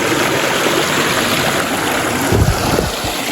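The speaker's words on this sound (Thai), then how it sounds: "เป็นน้ำตกแบบเล็กๆ" Constant rushing water from a small waterfall, loud and close, a steady broadband splash with no voices.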